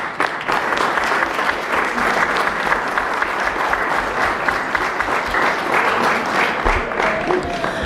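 A crowd at a San Dimas city council meeting applauds CIF champions, loud sustained clapping that holds steady throughout with a few whoops and crowd noise mixed in.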